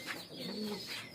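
Pigeons coo softly in low, rolling murmurs, faint and close, with a few light chirps over a quiet background.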